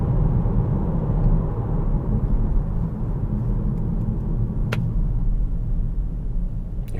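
Steady low rumble of a SEAT Ateca 2.0 TDI automatic cruising on the road, an even, muffled drone of engine and tyre noise inside the cabin with no gear changes.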